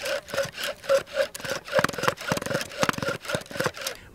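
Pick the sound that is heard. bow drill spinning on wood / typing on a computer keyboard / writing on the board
bow drill spinning on wood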